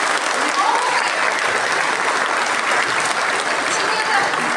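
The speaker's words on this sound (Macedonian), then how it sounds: "Со еден аплауз да ги поздравиме" Audience clapping at a kindergarten graduation performance, dense and even, steady and close for several seconds, with scattered voices mixed in.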